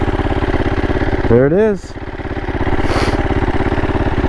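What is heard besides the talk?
Husqvarna SMR 450 motorcycle engine running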